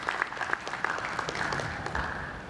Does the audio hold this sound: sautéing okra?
no